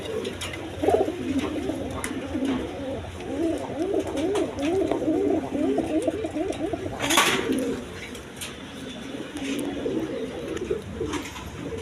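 Sirazi and Lahori pigeons coo in a rhythmic, repeated burble, close and steady, with other sounds from the birds and a brief sharp noise partway through.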